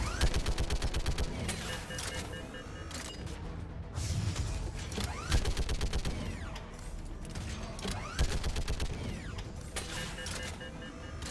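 A mounted turret in a Mass Effect shooter fires long rapid bursts of gunfire with mechanical whirring and creaking as it swivels. The rattling salvos repeat in waves for the whole stretch, loud and close.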